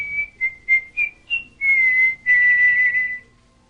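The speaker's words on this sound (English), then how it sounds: "You can use your breath to whistle" Someone whistles nearby, a run of short bright notes followed by two longer held tones, clear and fairly loud with no talking.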